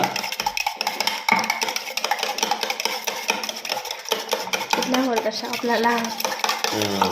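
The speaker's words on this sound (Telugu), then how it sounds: "దీన్ని మొత్తం బాగా గుడ్డు మొత్తం అన్నీ కలగలిపేలా మనం వేసిన ఉప్పు కారం కూడా కలుపుకునేలా" Beaten eggs are stirred with salt and chilli powder for an omelette, producing a close, rapid, continuous clatter of a utensil scraping and tapping a bowl.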